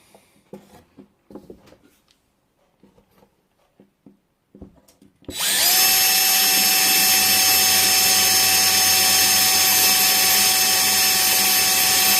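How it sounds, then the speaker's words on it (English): After some quiet handling and faint clicks, a power drill starts abruptly and runs loud and close through a drawer, a steady high-pitched whine over grinding. "then we can just drill straight through with our drill"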